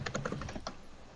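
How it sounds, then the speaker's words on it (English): Quick clattering keystrokes on a computer keyboard tap in a rapid, uneven burst, close but quiet, then stop. "I knew that already, but I was typing it in."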